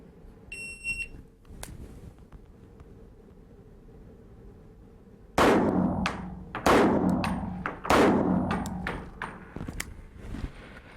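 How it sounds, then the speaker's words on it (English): Three gunshots on an outdoor shooting range, preceded by a short electronic shot-timer beep and quiet background hum. The sharp, loud cracks come at roughly even intervals, each followed by a ringing echo decay. "Three shots were fired"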